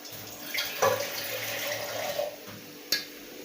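Water is poured onto turmeric and curry yellow rice in a cooking pot, a continuous splashing pour with a brief clink near the end.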